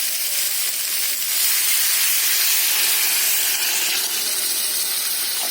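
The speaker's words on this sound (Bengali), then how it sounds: "এবার আমি পরিমাণ মতন জল দিয়ে দেবো।" Water poured into a hot pan of jackfruit curry with potato, producing a loud, continuous steam sizzle and hiss that holds steady and close throughout.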